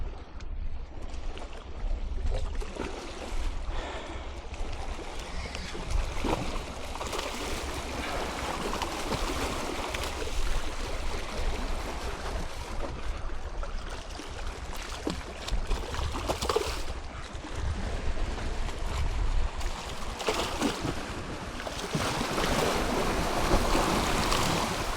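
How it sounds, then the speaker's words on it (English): Ocean swells wash steadily against granite rocks at Galveston Island, making a continuous broadband rush of surf and churning water with rumbling low end, swelling and easing slightly throughout with no pauses. "Yeah, you gotta watch these swells. They'll sneak up on you"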